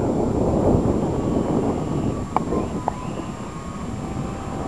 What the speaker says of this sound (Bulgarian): Порив се появи.